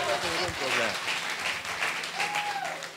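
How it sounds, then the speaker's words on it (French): Church congregation applauding during a sermon: a continuous wash of clapping from many people, with talk and voices mixed in. "Est-ce qu'on peut acclamer?"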